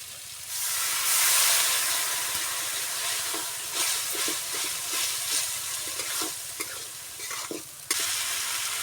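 A splash of water hits frying cumin paste with potatoes in a pan, setting off a loud hissing sizzle that settles into steady bubbling, broken by repeated stirring scrapes and spoon knocks.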